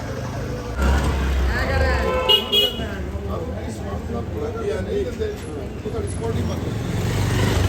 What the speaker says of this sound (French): t'as les klaxons tout le temps